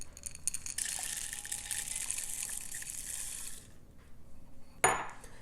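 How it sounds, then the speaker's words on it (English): Chocolate chips poured into boiling hot cream for a copycat Crumbl cosmic brownie cookie, giving a steady close hissing pour for several seconds, then a short sharp clatter near the end. "So now we're just going to pour in these chocolate chips."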